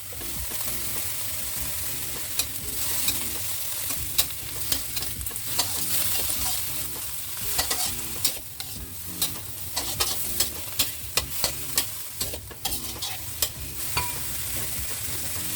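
Napa cabbage being stir-fried in a wok for Japanese udon with egg, a steady loud sizzle punctuated by repeated scraping and clacking of a spatula tossing the leaves, with no talk.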